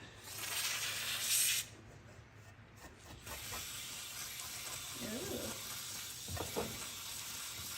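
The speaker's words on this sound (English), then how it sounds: "we've been cleaning most of this up with brake cleaner" Brake cleaner hisses from a spray can onto Chevy K2500 shop truck parts in a short loud burst, followed by a steady low hiss and shop noise with faint clinks.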